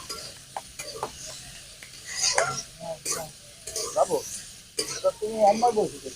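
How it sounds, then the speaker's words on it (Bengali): Bamboo shoots are fried in oil in a wok, with spoon clinks, scraping stirs and light sizzling in irregular bursts while someone talks over the cooking. "এবার এটার মধ্যে দিয়ে দেব এই বাঁশের পোটগুলো এটাও ভালো করে ভেজে নেব"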